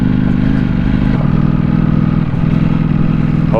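A Ducati Panigale V4S motorcycle engine running in race mode, a loud, steady, close rumble that holds throughout with slight shifts in pitch, and no talking over it.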